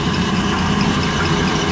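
A FENN Model 3F rotary swager runs steadily, its motor and big flywheel giving a constant loud mechanical hum and whir with no pauses and no talking.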